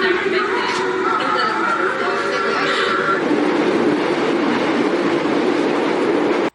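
A North Korean train rumbles loudly along the rails with a constant roar and faint clatter, heard from inside the car, cutting off abruptly at the end.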